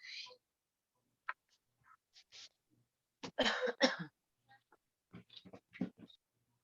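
A few short coughs and throat-clearing bursts come through in a quiet room, spaced apart among other small sounds.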